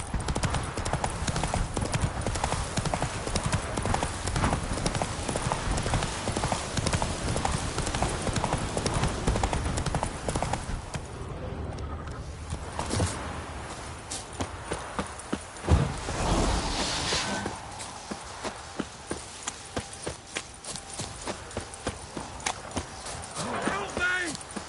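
The horse Roach gallops in The Witcher 3 on PS5, its hooves pounding in a fast, continuous clip-clop rhythm up close. Partway through the hoofbeats thin out into sparser strikes, and people talk over the action.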